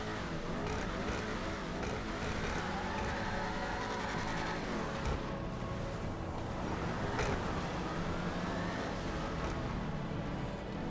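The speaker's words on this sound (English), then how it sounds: "We're going to do a sound test and a full review on the car now." A deep muscle car engine, the Vapid Dominator FX Interceptor in GTA Online, rumbles and revs continuously, with throttle swells rising and falling, close and loud, no voices.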